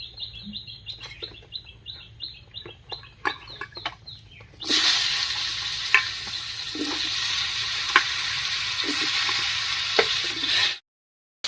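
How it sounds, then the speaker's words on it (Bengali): Slices of pointed gourd (potol) drop into oil left over from frying fish, setting off a loud, steady sizzle that runs close and continuous after a few seconds of birds chirping nearby. "এবার মাছ ভাজার এই তেলের মধ্যে পটলগুলো ভেজে নিচ্ছি"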